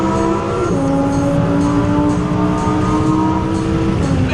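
A car driving and accelerating, its engine note a loud, close tonal whine that climbs and shifts with the revs over a steady bed of road noise, with no talking.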